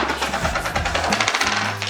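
A bunch of new house keys jingles close by, a continuous bright metallic clinking and rattling that lasts about two seconds.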